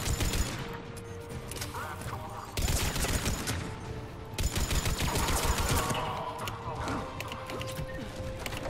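Dense video game gunfire from Mass Effect 3 crackles in rapid automatic bursts and fusillades, loud and continuous, while someone talks over the shooting.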